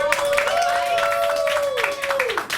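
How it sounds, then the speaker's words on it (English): Audience at an improv comedy show bursts into steady, dense applause that fills the whole moment, with a sustained vocal whoop or tone riding over the clapping before it tapers off near the end. "Please give a round of applause for Sierra."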